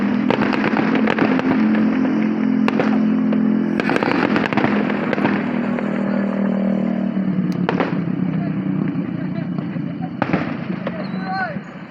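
Fireworks burst at the 2021 Elkhart fireworks show in a dense, loud, continuous barrage of crackles and booms, with sharp louder reports standing out, while people talk nearby.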